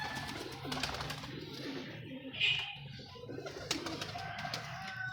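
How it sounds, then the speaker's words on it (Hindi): Pigeon cooing softly at a moderate distance, low repeated coos in an otherwise quiet setting with a brief brighter chirp midway. "बड़ा अच्छा कबूतर है।"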